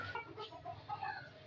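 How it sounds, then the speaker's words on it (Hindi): A rooster and hen cluck near a clutch of eggs in a short, faint burst of several quick, throaty clucks with no speech over them. "देखो मुर्गा आ गया ना, ये मुर्गा मारता है यार ये"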